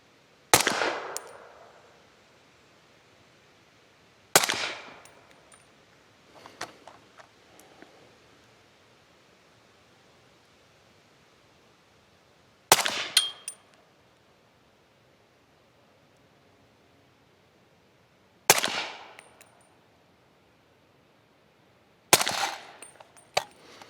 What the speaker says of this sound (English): I have some Hornady Frontier ammunition in here. It's their subsonic loading, so we're going to start off with that.